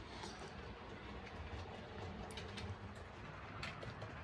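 A model railway train on a Yorkshire Dales layout emerges from a tunnel and rounds a curve, its small wheels clicking and rattling in a steady quiet clatter with faint squeals, no voices.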